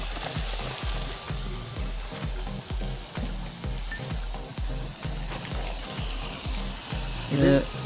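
Kashmiri chilli powder sizzles in a frying pan with a constant loud fry hiss, overlaid by rhythmic stirring scrapes repeating about twice a second, with a brief clatter near the end.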